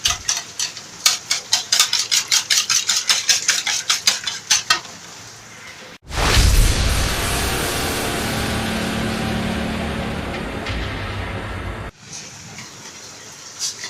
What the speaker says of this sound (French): Là maintenant, je bats mes œufs.